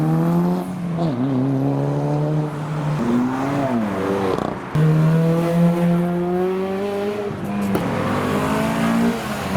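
A modified Mitsubishi Evo engine revs up and down repeatedly nearby at a Japanese car meet, rising and falling in pitch with short throttle blips between longer pulls.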